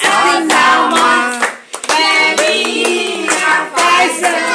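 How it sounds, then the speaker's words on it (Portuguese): A round of applause at a birthday party in warm bursts of hand clapping, several loud rounds with brief gaps, mixed with singing voices throughout. "uma salva de palmas"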